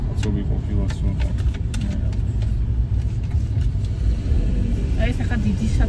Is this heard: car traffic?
yes